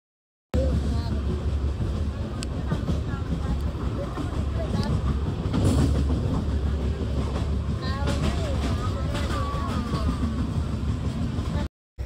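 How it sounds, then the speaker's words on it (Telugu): A train runs along the rails during a journey, producing a continuous loud rumble and clatter with scattered squeals and knocks, while faint voices are heard in the carriage. "నాకు ట్రైన్ సౌండ్ అంటే చాలా ఇష్టం జర్నీ చేస్తున్నప్పుడు"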